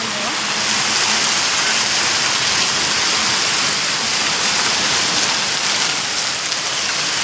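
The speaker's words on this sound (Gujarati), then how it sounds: "બહુ વરસાદ કર્યો" Heavy rain pours steadily throughout, a dense, loud, continuous hiss of water drumming on surfaces close by.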